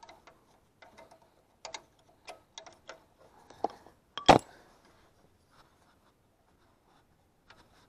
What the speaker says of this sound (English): And slide the plug off